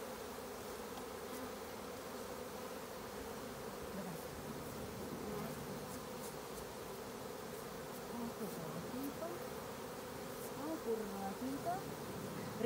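Honey bees buzzing steadily while honey frames are pulled from a hive and the bees shaken off, a dense close hum lasting throughout with slight swells and a few faint knocks.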